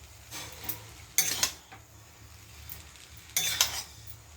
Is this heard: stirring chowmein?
yes